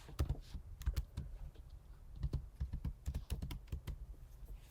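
Someone types a password on a computer keyboard during a software install, producing close, crisp key clicks in quick irregular bursts with brief pauses, and no talking.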